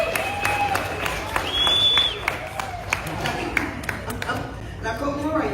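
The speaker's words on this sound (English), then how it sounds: "I want you all to give a nice warm round of applause to Colton." Crowd aboard the Star Wars Galactic Starcruiser gives scattered, warm applause with some cheering, mixed with background music and bright tonal chimes; clapping is moderately close and uneven rather than a dense roar.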